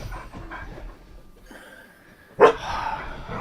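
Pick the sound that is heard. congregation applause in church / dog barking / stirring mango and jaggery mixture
dog barking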